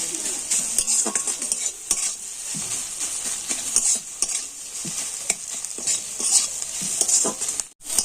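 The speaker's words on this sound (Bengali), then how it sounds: "এখন আমি সমস্ত সবজির সাথে এইভাবে ডিমটাকেও কিন্তু একটু ভালো করে ভেজে নেব" Crumbled egg frying with mixed vegetables in a pan as filling for egg paratha, a steady close sizzle broken by repeated scraping and stirring strokes of a spatula, with no voices.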